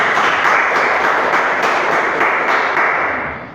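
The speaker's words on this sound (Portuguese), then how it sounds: "Você pode aplaudir a palavra do Senhor Jesus?" A church congregation applauds in a steady wash of clapping that holds for a few seconds and then begins to fade, with no voices over it.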